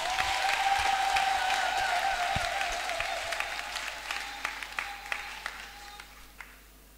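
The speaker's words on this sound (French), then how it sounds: "je demande à ce que toute la foule ici présente acclame notre révérend" A crowd at a chapel blessing ceremony applauds the reverend, dense steady clapping that slowly thins out toward a few scattered claps at the end.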